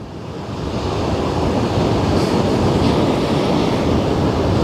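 Waves and ship wake washing on the Westerschelde estuary, a steady loud rushing wash of water with wind buffeting the microphone, building in the first second then continuous.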